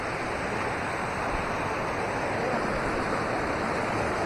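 Water rushes steadily down a channel, a loud, unbroken broadband roar close by with no change in level and no voices.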